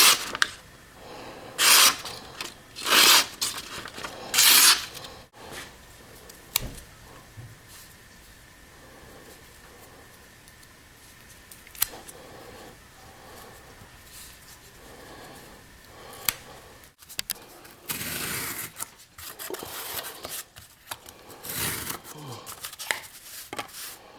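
Schrade SCH401L ceramic blade folding knife doing cut tests, a series of sharp slicing and chopping strokes in bursts, several quick cuts at the start and more clustered near the end, with quieter handling between.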